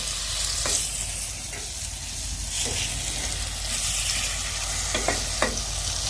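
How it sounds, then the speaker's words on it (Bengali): Eggplant greens fry in a pan with a steady, broad sizzle and several brief stirring scrapes, close and fairly loud. "এই যে বেগুনের শাকটাও আস্তে আস্তে ভেজে ফেলছি"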